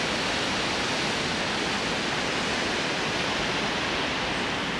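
Steady, dense rush of river water flowing in Arashiyama, Kyoto, a continuous broadband wash with no breaks and no voices.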